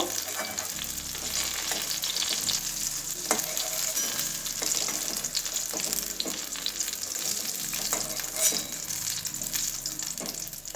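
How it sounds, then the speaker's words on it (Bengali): Eggplant fries in oil in a wok with a steady, busy sizzle and crackle throughout. Sharper spits and pops break through the hiss now and then, and no one speaks. "বেগুনটা লাল লাল করে ভেজে নিতে হবে,"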